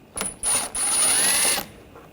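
Close, loud ratcheting from a ratchet with a T20 socket backing screws out of a 2013-2022 Buick Encore 1.4L: two short bursts, then a longer continuous run of clicks that stops abruptly, with no one talking.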